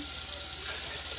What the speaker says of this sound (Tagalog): Damihan natin ng tubig para daming sabaw.